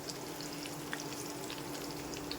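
Split mustard seed dal crackles and sizzles in hot oil as a spoonful goes in for tempering, a steady, close frying hiss that holds for the whole stretch with a few brighter pops.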